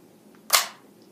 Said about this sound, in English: Just going to give you a little sample of what this gun sounds like.